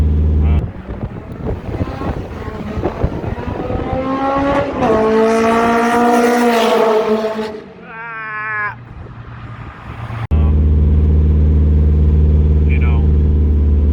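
A Honda Civic EG with a swapped K24 engine roars and revs through an equal-length hood exit exhaust, the pitch climbing and then dropping, before settling into a steady deep drone.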